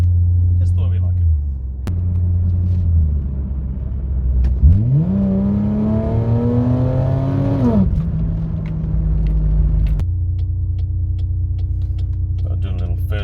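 A naturally aspirated Ford Territory fitted with Pacemaker 4495 headers and a 100-cell cat idles with a low bass rumble, then revs up in one rising, raspy sweep before falling back to a steady idle, heard close.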